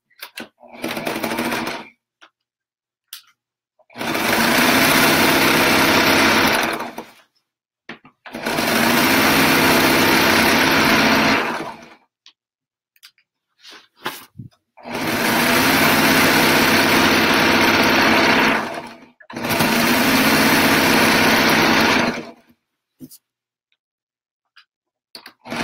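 A sewing machine stitches a rag quilt in four loud bursts of a few seconds each, with short quiet pauses between them and faint handling sounds in the gaps.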